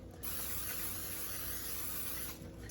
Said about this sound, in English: Spray down our pan.